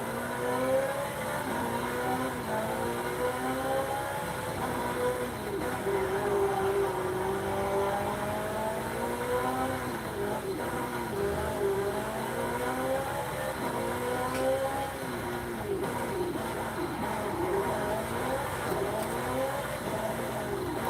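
A Porsche 918 Spyder engine in the video game Forza Horizon 5 revs and roars continuously, pitch rising and falling through gear changes, loud and close for the whole stretch.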